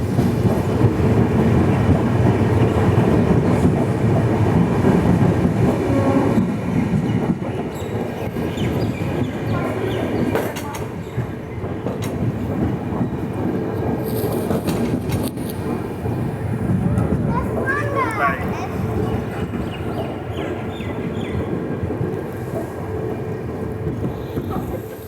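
The Capital Express 13247 from Kamakhya to Siliguri runs steadily on its rails near Goalpara Town, a continuous loud rumble and rattle of the carriage heard from inside, easing slightly partway through.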